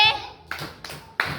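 Children in a kindergarten class clap their hands in a group chant, several sharp, unison claps at uneven intervals with ringing decay between them and a voice near the start.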